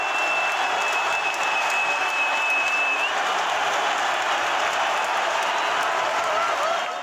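Football supporters cheer and applaud after Moldova's win over Poland in a Euro 2024 qualifier, with dense steady clapping and crowd roar filling the whole stretch at high level, plus a brief whistle-like tone early on.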